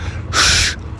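A voice imitates a runner's heavy breathing with one sharp, breathy huff standing out clearly against a quiet background.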